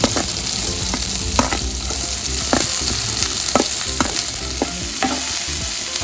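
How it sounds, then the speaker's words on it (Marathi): Chopped onion frying in hot oil in a pan, a loud, continuous sizzle with repeated clinks and scrapes of a spoon as the onion is stirred. "आता आपण जो कापलेला कांदा आहे ना तो आता पूर्ण याला घालणार आहे"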